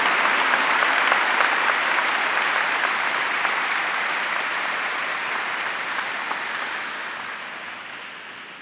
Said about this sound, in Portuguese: Pode aplaudir, porque o Senhor merece todo o nosso aplauso.